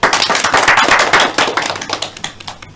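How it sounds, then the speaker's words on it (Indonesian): A class in a university microteaching session claps hands together, a loud, close burst of dense clapping that thins into scattered individual claps toward the end, with no talking. "Tepuk tangan kita semua."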